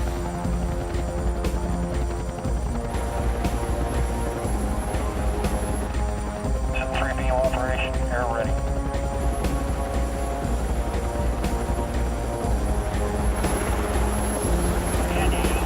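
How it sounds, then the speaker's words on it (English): A Sea King helicopter's steady rotor drone and engine whine fill the whole stretch, loud and close, while a voice briefly talks over it. "The Sea King helicopter airlifts the first power box off the bow section."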